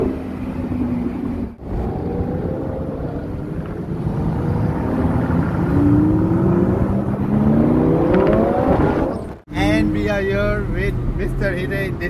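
A Lamborghini Huracan engine revs and accelerates with rising whine on the Yas Marina Circuit during a track day, heard from nearby over wind noise while a person talks.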